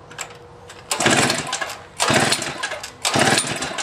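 A Toro S-200 snowblower engine is cranked after priming and choking, giving three loud pull-start bursts of rough sputtering, each about a second apart, with no sustained running between them.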